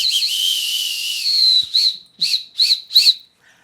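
A handheld whistle is blown: one long, steady blast, then four short, sharp toots in quick succession. It is loud and close, with no talking.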